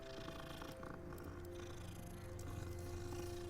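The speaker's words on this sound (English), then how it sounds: "Nice purring." Steady, soft purring from a cat in the video game Hogwarts Legacy, a continuous low rumble running through the whole stretch under faint game ambience and tonal hum, with no talking.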